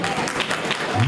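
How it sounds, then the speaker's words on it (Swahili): An audience at a live concert competition claps and cheers for a finalist, a brief burst of applause mixed with voices and crowd noise. "MTZ Koedi, makofi mengi sana kwake."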